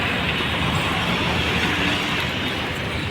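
A metro train passes at Kalighat metro station in Kolkata, producing a continuous loud rumble and clatter of wheels throughout, close and steady.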